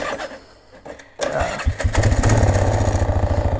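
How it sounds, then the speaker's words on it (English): An older 1996 Polaris Sportsman 500 ATV starts on its push button: a short whirring crank after a click, then the engine fires and settles into a loud, close, rapid chugging idle. "turn the key once to turn the ignition on, and you got a start button here"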